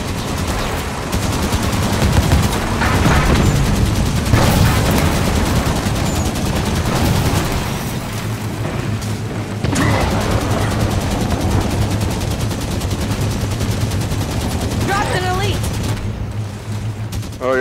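A Halo 5: Guardians Warzone Firefight battle against the Covenant, with Banshees and a Warthog present, fills the air with dense, sustained gunfire and explosions, while people talk over the steady roar.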